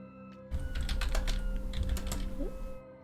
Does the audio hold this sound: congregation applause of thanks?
no